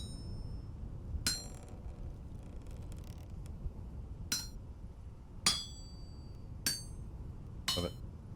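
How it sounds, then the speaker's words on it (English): Hammer strikes on molten iron in the survival game Vintage Story: five sharp metallic clinks spaced about a second apart, each ringing briefly over a steady low ambient bed, with no talk. "Getting chilly while hammering molten iron."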